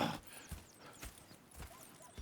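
Horses in Red Dead Redemption 2 clip-clopping in a steady run of hoofbeats with a neigh or whinny mixed in, moderately close and heard on their own without talk.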